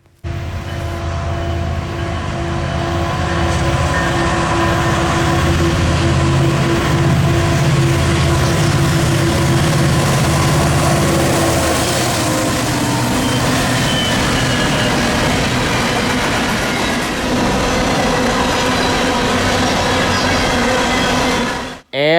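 A BNSF freight train passes with a trailing Mac locomotive, producing a loud, continuous rumble and steady rolling wheel noise that fills the whole stretch before cutting off abruptly.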